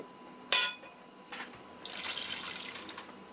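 Liquid is poured into a cooking pan to make a sauce for chicken necks, with a sharp splash followed by a softer, sustained pour and sizzle, close by and alone.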